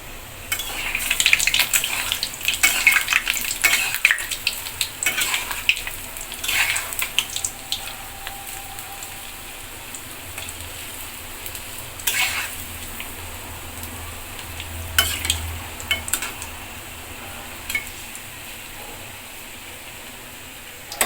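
Palm fritters frying in a small amount of oil, a steady close crackle and bubbling sizzle with occasional louder spits and pops, no talking.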